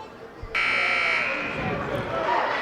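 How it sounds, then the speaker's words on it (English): A loud, sustained electronic buzzer sounds abruptly in a high school varsity boys basketball gym, calling the teams back onto the court, holding steady for a couple of seconds over crowd murmur and a commentator's voice. "There's the buzzer requesting the teams to get out onto the court"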